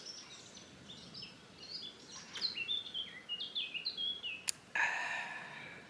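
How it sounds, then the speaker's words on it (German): Small birds chirping and twittering at a quiet cow pasture, a series of short high calls building in the middle and ending with a brief sharp noise. "man hört hier die Vögel zwitschern"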